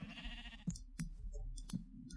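A Minecraft sheep bleats faintly in the game, with a few sharp clicks breaking through a quiet, steady background.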